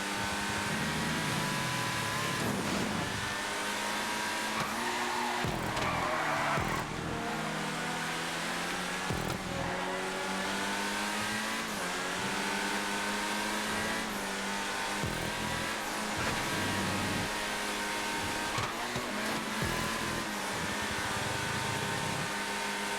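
Race cars roaring around a track in GTA 5, engines droning with steady revving and shifting pitch, loud and continuous with overlapping cars passing close by.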